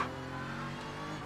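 A GT3 race car engine in a racing video game flares up in a brief high rev after a missed downshift, a short steady buzzing roar at moderate level with no voices.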